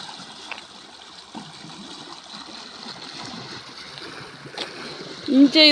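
Faint, continuous flow of water in a stream beside gardens in an Italian village, a soft steady wash with occasional small splashes, while someone speaks nearby.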